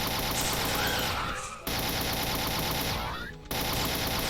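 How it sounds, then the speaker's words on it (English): A plasma rifle in the Reelism 2 Doom mod fires in rapid continuous bursts, a dense rattling stream that cuts off briefly twice, loud and up close, with no talking over it. "I do like this changed plasma rifle. I mean, it doesn't fire as fast, but the sound effect is not quite as obnoxious"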